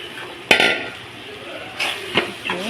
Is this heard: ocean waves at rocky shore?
no